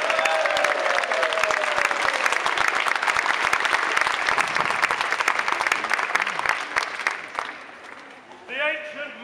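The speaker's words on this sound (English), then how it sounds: "Huge round of applause for Kevin." Audience applauding at a talk, loud sustained clapping that tapers off toward the end as a voice begins speaking.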